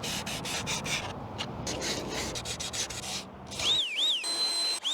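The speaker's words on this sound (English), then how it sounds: "Take a sanding block and then just go around the edges right here. We'll use a fine grit 220 sandpaping block." Close, steady rubbing and scraping of a 220-grit sanding block worked around the edges of a carbon fiber mirror cover for an Alfa Romeo Giulia, rhythmic strokes with brief pauses, no talking.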